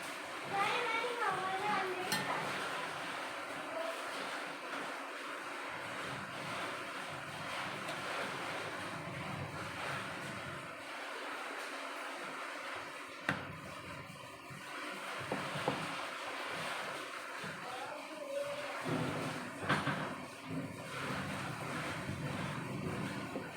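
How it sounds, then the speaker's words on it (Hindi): Heavy rain pours down steadily with a broad rushing hiss of falling and running rainwater, while children's voices and an adult speaking are heard over it. "बारिश देखिए, बाप रे बाप, बारिश का पानी कितना दूर तक आ रहा है"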